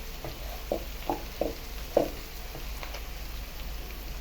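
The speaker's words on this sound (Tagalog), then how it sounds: "Tingnan nyo yung paggagisa natin ng ingredients." Ingredients for spicy sinantulan sautéing in a pan: a soft, steady sizzle with a few brief stirring knocks and scrapes, close and fairly quiet, no talking.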